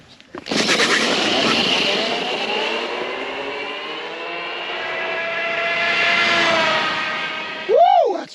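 A WEPED electric scooter launches at full throttle, its motor whine rising and holding loudly for several seconds as it speeds away, then a short shout near the end.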